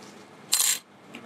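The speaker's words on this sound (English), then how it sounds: "We place the copper foil facing down onto the PVA foil, like this." Copper foil is laid face down onto PVA plastic foil, giving a single brief, crisp, close rustle against near silence.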